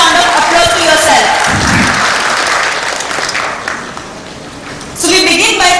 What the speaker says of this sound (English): I just would like everyone to give a big round of applause to yourself.